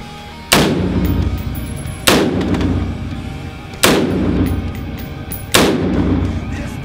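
An AR-15 rifle fires four loud, close single shots at roughly even intervals of about 1.5 seconds during a magazine torture test, each sharp crack followed by a ringing echo over an outdoor background.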